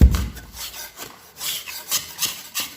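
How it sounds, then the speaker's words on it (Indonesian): A tool scrapes damaged old paint off a wall in short, rasping strokes, close up, with a soft bump at the start and uneven pauses between the scrapes. "kupaslah bagian yang rusaknya saja"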